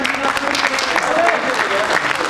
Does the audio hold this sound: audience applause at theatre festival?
yes